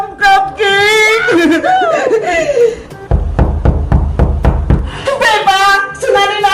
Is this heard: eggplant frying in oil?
no